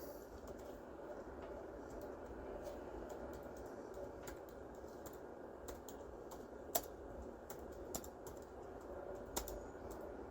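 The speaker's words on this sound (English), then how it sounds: "I'm just kind of typing also" Soft, steady clicking of computer keys in quick irregular bursts, faint and close, with a few sharper taps standing out.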